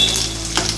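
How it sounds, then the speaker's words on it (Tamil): Urad dal, curry leaves and asafoetida frying in hot oil for a raw banana poriyal, a steady close sizzle and crackle with a brief louder spatter. "இதெல்லாம் நல்லா வறுத்துக்கோங்க."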